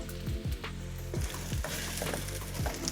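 Calabacitas vegetables cooking down in a pan on the stove, giving a steady sizzle, with repeated stirring or scraping strokes through the pan, close and continuous with no talking.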